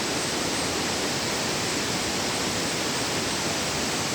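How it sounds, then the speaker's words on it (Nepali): A waterfall on a river at Dikchu, Sikkim, in the evening gives a steady, dense, full-bodied roar that stays constant throughout, with no voices. "यहाँ देख्न सक्नुहुन्छ खोला फल्स कति मजाको फल्स आइरहेको छ"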